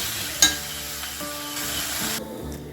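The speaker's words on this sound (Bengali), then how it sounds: "এই চাল দিয়ে আমি ভালো করে আরও ভেজে নেব।" Soaked, drained gobindobhog rice and moong dal roasting together in a pan, giving a soft continuous sizzle with a sharp clatter near the start and scraping stirs.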